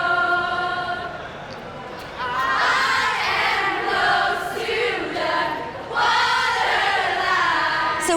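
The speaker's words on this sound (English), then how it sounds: "A very excitable crowd are making a bit of a scene in honour of a pair of special arrivals in T2." An excitable crowd of Jedward fans at Dublin Airport Terminal 2 roars and shrieks in loud, sustained cheering, swelling in two big bursts with high-pitched screams from many voices close by.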